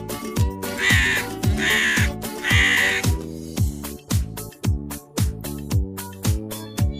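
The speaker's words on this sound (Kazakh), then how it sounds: "Қарға." A crow caws three times in a row, loud and close, with harsh, raspy calls set over a rhythmic musical backing that keeps pulsing after the calls end.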